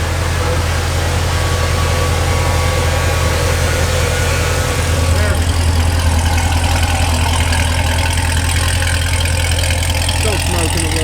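A 2015 Corvette C7 Z06 with aftermarket headers idles loud and close, a deep steady rumble with a slight lift in intensity partway through, while people talk faintly nearby.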